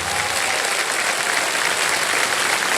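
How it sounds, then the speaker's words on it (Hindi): Studio audience at the KBC quiz show bursts into sustained applause, a loud, dense wash of clapping that holds steady throughout with no talk over it. "और तालियां बज जाए इनके लिए."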